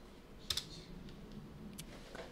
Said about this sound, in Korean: 이 상태에서 제가 7을 입력하면은 7하고 엔터를 하면 뭐가 나오죠?